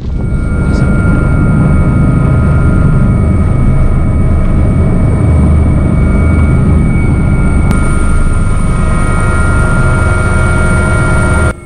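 Steady, loud drone of a 12-passenger helicopter heard from inside the cabin in flight over the Faroe Islands, a constant rotor and turbine roar with faint high whine throughout.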